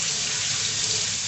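Kitchen tap water running steadily into a sink while fingers are rinsed, a close, continuous hiss and splash with no talk.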